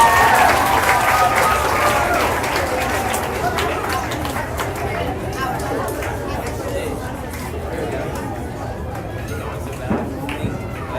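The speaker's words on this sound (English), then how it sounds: "give one more big round of applause to the 5th grade class" Applause from a crowd at a school graduation ceremony for a fifth grade class, a loud sustained wash of clapping mixed with chatter and movement that gradually softens over about ten seconds.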